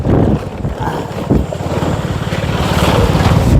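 Rushing wind buffets the microphone as a motorbike speeds along a rough road, with a low engine drone and constant blustery roar throughout.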